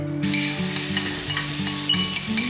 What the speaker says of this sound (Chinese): 把蒜蓉爆香